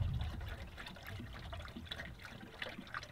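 Water poured into a car's cooling system as the water half of a 50/50 mix with old Ford coolant, a steady trickling, gurgling stream heard close and alone at low level.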